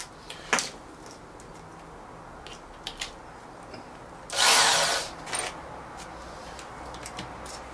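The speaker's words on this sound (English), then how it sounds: "We take our drill." A power drill whirs in one short burst amid scattered clicks and handling noise in a quiet room.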